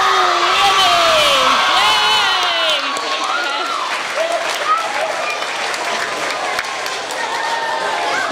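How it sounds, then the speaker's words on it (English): Children in a Wayne Elementary school gathering clap and cheer loudly for Winnie, a Friends With Paws therapy dog, with high whoops and shouts rising over dense, sustained applause that eases slightly but keeps going throughout. "let's give a big cheer for Winnie"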